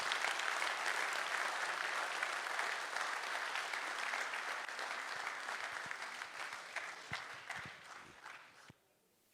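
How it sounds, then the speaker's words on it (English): Sustained audience applause at a Brahma Kumaris discourse with the audience at IIMBue 2019 greets a spiritual teacher, a dense steady clatter of many hands that slowly thins and tapers to a few scattered claps before cutting off. "A big round of applause, Sister Shivani."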